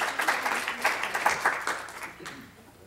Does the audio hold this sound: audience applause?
yes